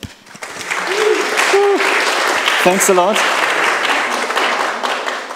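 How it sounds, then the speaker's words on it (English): Applause for two teams at a community event, a steady round of clapping from an audience lasting the whole stretch, with a few spoken words and brief voices over it. "let's just hear a bit of applause for both teams"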